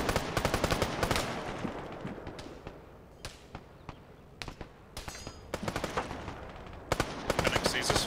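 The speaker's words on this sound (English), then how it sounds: "Shots north." Rapid bursts of Arma 3 video game gunfire crackle almost nonstop, sharp close shots mixed with quicker automatic strings that thin briefly midway before picking back up.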